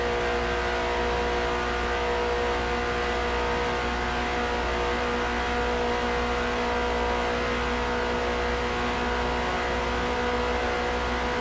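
Race car engine in Forza Motorsport held near the red line during an endurance race, a steady high-pitched tonal drone with stacked harmonics, constant and unbroken throughout.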